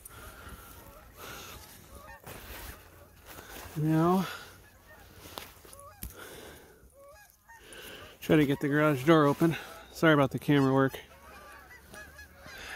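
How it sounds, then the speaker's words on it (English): Geese honk in bursts of repeated calls outdoors during a nor'easter snowstorm, fairly clear against wind, while a person talks between the calls. "There's some geese over here."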